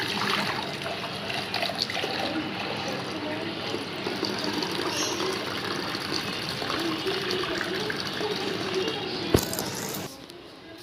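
Water pouring and trickling into a container while a pet's water is being changed indoors, a continuous splashing flow that cuts off near the end.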